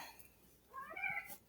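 A cat meows once in a drawn-out, rising and falling cry, soft and a little distant, in an otherwise quiet indoor room with no talking.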